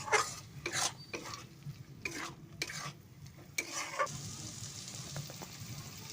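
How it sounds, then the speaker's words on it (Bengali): Chicken kosha frying in a pan with cashew paste and poppy seeds is stirred in several brisk, scraping bursts over a steady low sizzle, close and fairly loud. "নেড়ে নেব।"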